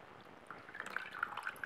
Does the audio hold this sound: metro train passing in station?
no